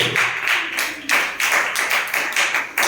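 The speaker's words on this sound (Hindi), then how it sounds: "ताली बजा दीजिए हमारे प्यारे छात्रों को" Students in a classroom clap in a short burst of about ten to twelve sharp claps in an uneven rhythm, close and fairly loud, with no talking over them.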